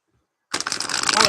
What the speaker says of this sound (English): I'm going to shuffle these cards for Nishan now